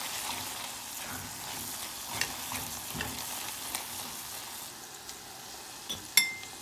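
Ground beef frying in a pan gives a continuous, bright sizzle throughout, with faint stirring taps and a sharp metallic clink near the end.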